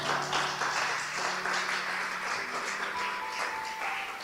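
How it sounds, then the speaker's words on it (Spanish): Steady church congregation applause fills the space, a continuous wash of clapping at moderate level with no one speaking over it. "Dale un aplauso."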